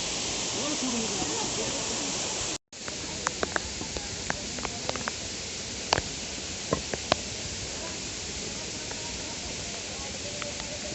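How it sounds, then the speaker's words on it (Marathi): Steady, loud rushing of a nearby waterfall fills the whole clip, with a brief dropout early on and a few faint clicks over the roar, on the Panhala to Pawankhind trek trail. "आपल्या शेजारून एक धबधबासुद्धा वाहतोय त्याचा आवाज येतोय आपल्याला"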